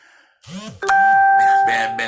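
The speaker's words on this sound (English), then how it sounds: "Sorry about this little notify bell for you guys." A short notification bell chimes, a clear sustained two-part ding ringing out mid-clip and holding for about a second, heard under and between bits of someone talking.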